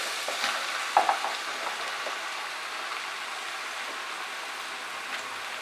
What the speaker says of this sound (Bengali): 1 মিনিট আমি হাই ফ্লেমে কষিয়ে নেওয়ার পর এর মধ্যে এবারে আমি পুঁই শাকটা অ্যাড করছি।